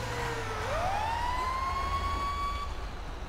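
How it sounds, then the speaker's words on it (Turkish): Emergency vehicle siren in the video game GTA 5, switched on and rising into a loud, steady electronic wail over a low engine rumble, continuous and close. "Sirenimizi açalım."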